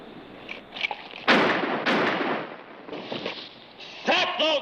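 Gunfire in a western TV series showdown, several sharp loud shots in quick succession in the middle, with a voice briefly heard at the end.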